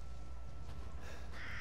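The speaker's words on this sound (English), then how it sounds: "There's the bird." A crow in Resident Evil Village gives a pair of harsh caws, moderately loud over a low ambient game hum.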